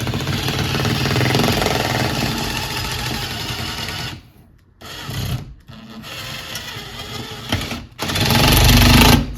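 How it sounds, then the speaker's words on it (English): A power drill runs into a wall while a large display is being mounted, whirring loudly and close in several bursts broken by short stops. "when I pushed in to drill it, the metal piece just kind of fell out"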